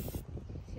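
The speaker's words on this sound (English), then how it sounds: "So lengthen your hand and lift this and spray now." Short burst of spray sealant from an aerosol can misted onto a child's painted hammer gift, a close hissing spray lasting under a second.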